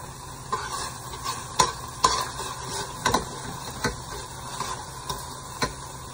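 Garlic sizzling in a pan with chicken drippings, a steady frying hiss broken by repeated stirring scrapes and clicks, close and moderately loud.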